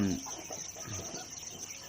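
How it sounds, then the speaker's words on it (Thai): Older laying hens on a farm clucking softly in low, short bursts against a steady background hum, fairly quiet and close by. "แม่ไก่ที่ยังออกไข่อยู่ของเรานะครับ"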